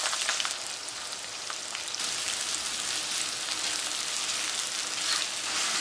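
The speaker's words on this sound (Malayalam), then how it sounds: "ഈ നെയ്യിലേക്ക് സവോള ഇട്ടിട്ട് വറുത്തെടുക്കാം" Sliced onions fry in hot ghee for chicken biryani, giving a dense, steady sizzle with crackling and no voices.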